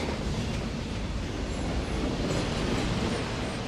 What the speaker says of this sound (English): It's the first time I've ever been inside a locomotive.